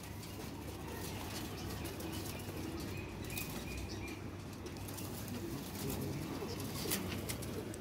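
Teddy pigeon chicks flapping their wings in flight, a steady fluttery rush of wingbeats with occasional soft coos and chirps, heard outdoors against constant background noise.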